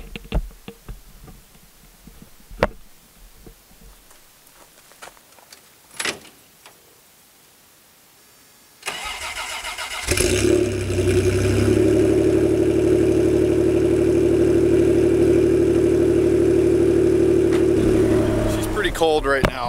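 A cold BMW E30's engine cranks and catches after a quiet stretch with faint handling noises, then settles into a loud, steady idle that runs for several seconds before cutting off near the end.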